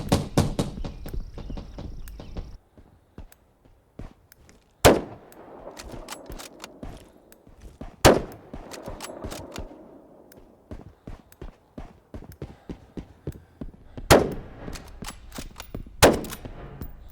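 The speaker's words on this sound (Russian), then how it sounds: "В девкасте все еще показывает изменения в звуках, а точнее в шагах и в стрельбе." Gunfire in the video game BattleBit Remastered rings out inside buildings: a few sharp, loud shots spaced seconds apart, each trailing into a reverberant echo, with quieter footsteps and clatter between them.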